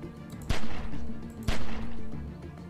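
Two sharp video game gunshots from The Walking Dead: 400 Days, about a second apart, stand out over a steady background hum.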